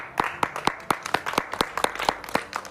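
A church congregation claps to welcome arriving brothers, with steady, fairly close rhythmic clapping that settles into a regular beat and carries on throughout.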